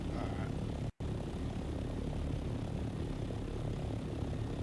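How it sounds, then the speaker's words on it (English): Ornithopter engine in the game Dune: Awakening, a continuous dense roar with a rough propeller-like texture, holding steady apart from a momentary dropout near the start. "Okay, I got the copter ready."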